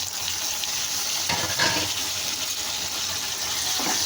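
Tomatoes frying in hot oil with onions for a mutton head curry, a steady close sizzle with a brief stirring rustle midway, no talking.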